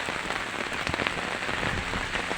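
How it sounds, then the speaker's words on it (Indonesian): Heavy drizzle falls in Purwokerto, making a steady, dense patter of drops on surfaces close by, with no voices. "Gerimisnya cukup deras."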